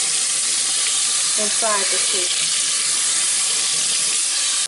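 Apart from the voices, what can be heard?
water rinsing through a child's hair twists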